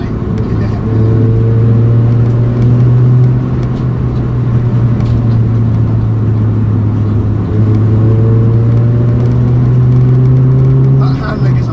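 Modified Ford Fiesta ST150 engine pulling steadily while driving, a loud continuous drone that rises and falls in pitch through gear changes, close and dominant throughout with road rumble beneath.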